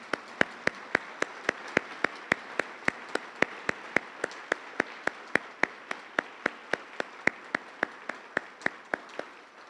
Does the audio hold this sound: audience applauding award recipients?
yes